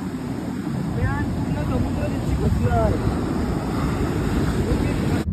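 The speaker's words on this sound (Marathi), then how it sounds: "बघा लई मोठ्या मोठ्या लाटा आहे काय पाणी आहे." Loud, continuous roar of big ocean waves at a beach in South Goa, mixed with heavy wind buffeting the microphone, with faint voices briefly audible underneath.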